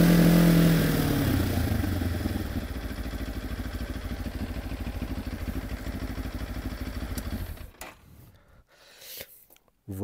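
Benelli TRK 702 motorcycle engine running steadily with a low, throbbing drone and a faint mechanical clatter, close and fairly loud, then dropping away near the end.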